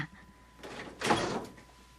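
A door opening in an old Paris lodging room, heard as a brief scraping, creaking movement that builds and peaks near the middle of a quiet two-second stretch, fairly close and moderately loud.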